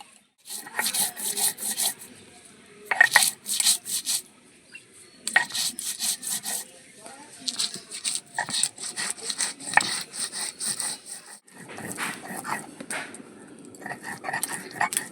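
Green chillies and spices being ground on a grinding stone, with repeated rhythmic rasping strokes back and forth, close and fairly loud, and short pauses between passes.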